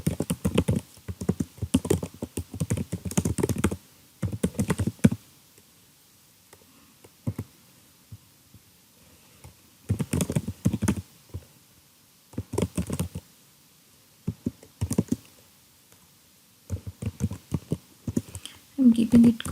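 Bursts of typing on a computer keyboard while writing gradient descent code, quick clusters of clicks separated by pauses, close and clear, with a person talking between the bursts.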